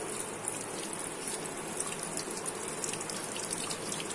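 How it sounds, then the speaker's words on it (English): Tap water runs in a steady, close gush over mangoes being washed before they are peeled and pulped for jam, continuous and unbroken throughout. "Wash the mango thoroughly"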